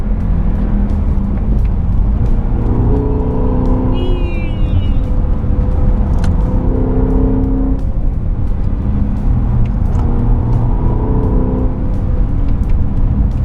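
A BMW E90 M3 pulls hard on a back road after a downshift, its engine note climbing steadily in a loud, continuous run, with wind and road noise in the cabin.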